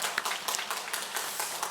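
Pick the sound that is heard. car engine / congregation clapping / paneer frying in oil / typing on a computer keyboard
congregation clapping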